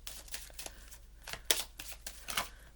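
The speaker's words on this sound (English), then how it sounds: "that's not the way I shuffle these cards" A deck of tarot cards is shuffled by hand in a quiet room, giving soft, uneven riffling and flicking bursts with a few sharper slaps, close and fairly faint.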